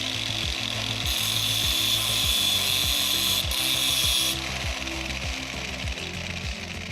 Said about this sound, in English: I'm gonna go ahead and just grind off the corner of the ESC just to make sure that everything's clear